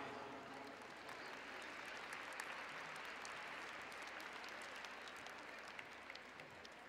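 A conference audience at a world congress on early childhood public policy in Puebla gives closing applause, a steady, even wash of many hands clapping, heard from a distance and fairly soft throughout.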